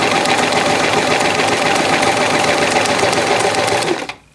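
A sewing machine stitches a buttonhole in steady, fast, loud mechanical whirring close by, running continuously for about four seconds before it abruptly stops, with no talking.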